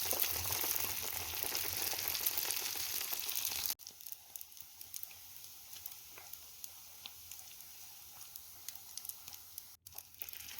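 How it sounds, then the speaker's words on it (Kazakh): Baursak dough sizzles loudly in hot oil at first, then settles into a quieter, crackling fry with scattered pops. "қызып тұрған майға салып қуырып аламыз"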